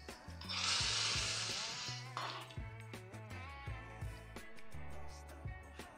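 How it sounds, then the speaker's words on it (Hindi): Hot ghee tempering hits cooked mixed-lentil dal with a loud hissing sizzle that flares for about two seconds, then settles into softer bubbling with light clinks. "इसमें तड़का लगा देते हैं"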